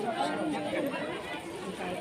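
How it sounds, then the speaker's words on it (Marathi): Pilgrims at a Jyotiba and Mahalakshmi temple fill the air with a steady, dense crowd chatter of many overlapping voices, close and continuous with no single voice standing out. "गर्दी खूप आहे ना."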